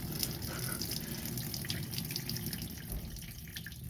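Water drains steadily from a Slant Fin gas boiler onto the floor toward a floor drain, a continuous close trickling and splashing with no talk.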